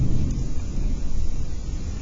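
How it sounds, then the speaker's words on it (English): Low rumbling thunder from a small thunderstorm rolls steadily through the whole stretch, a dense broadband roar with no voices over it. "we have a little thunderstorm going on right now."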